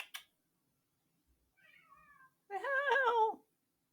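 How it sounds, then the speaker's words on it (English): A house cat meows close by, a short faint call followed by one longer, louder drawn-out meow after brief silence; no one speaks. "My cat's moaning."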